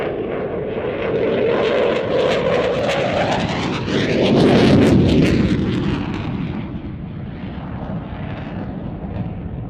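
Jet aircraft with afterburners lit roars past at an air display, a loud rumbling blast that swells to a peak midway and then fades as it pulls away.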